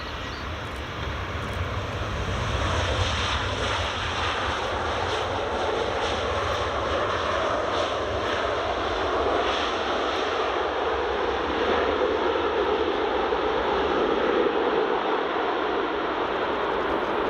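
A WestJet airliner in its old livery passes at Edinburgh Airport's runway 24, a loud, steady broadband engine roar that holds throughout with no talk over it.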